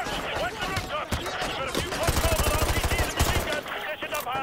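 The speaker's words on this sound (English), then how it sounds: "I don't know where I'm getting shot from." Automatic gunfire and rapid shots in the video game Call of Duty Modern Warfare 2 Remastered, dense bursts running through the whole stretch with a louder stretch of rapid fire near the middle, mixed with game sounds and a talking voice.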